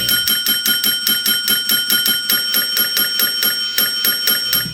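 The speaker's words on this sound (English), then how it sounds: "Hector's bell serves as a significant plot device" Hector Salamanca's bell from Breaking Bad, rung rapidly and steadily: about twenty bright metallic dings in under five seconds, close and loud, with no voices.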